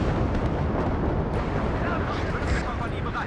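Artillery keeps firing in the video game WARNO during a Cold War battle with German troops, producing a dense, loud rumble of heavy blasts and booms, continuous throughout, with voices talking over it.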